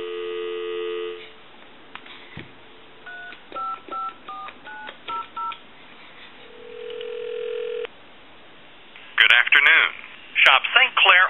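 A Wedgwood Jasperware Astral Telcom telephone, converted for an outside line, gives a steady dial tone, then a run of touch-tone dialing beeps and another held tone before a recorded voice starts talking.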